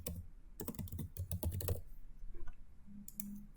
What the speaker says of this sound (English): I'm just going to go ahead and type it out over here